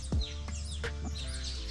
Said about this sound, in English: I wanted you to listen to their chirping.